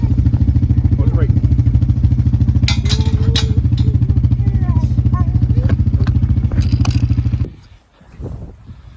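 Homemade hay bale unroller driven by a tractor or engine unrolling a round hay bale: a steady, loud mechanical engine drone with rattling clatter that runs continuously, then cuts off abruptly near the end, leaving quiet movement sounds.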